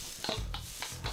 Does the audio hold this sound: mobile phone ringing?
no